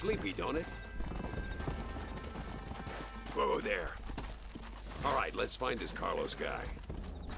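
Horse hooves clip-clop and a horse neighs in the Red Dead Redemption video game, the rhythmic hoofbeats running beneath frequent, close talking.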